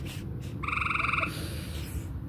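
Frogs croak at night: a single fast, rattling trill lasting under a second stands out over a steady background chorus of other frogs, fairly close and moderately loud.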